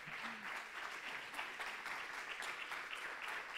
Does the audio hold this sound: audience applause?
yes